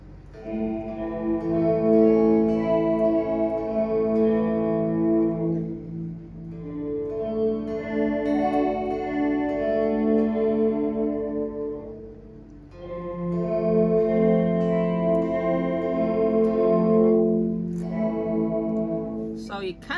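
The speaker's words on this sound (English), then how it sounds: "you can definitely hear the modulation much deeper and thicker" Sustained electric guitar chords through a Fender Reflecting Pool reverb pedal, washed in thick, deep modulation and lush reverb, swelling and fading in long phrases with no voices.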